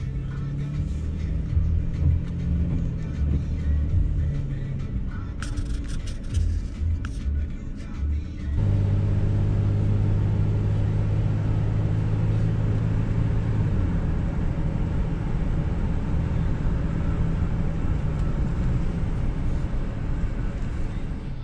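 A car driving along a road, with steady low engine and tyre rumble from inside the cabin, a short rattle partway through, then a louder, heavier drone as it speeds up and holds a constant pace.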